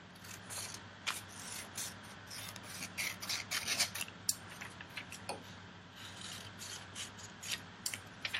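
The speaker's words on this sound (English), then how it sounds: "I'm going to cut across down here." Scissors snipping through paper along solid lines, a series of close, quiet crisp cuts and rustles in an otherwise quiet room.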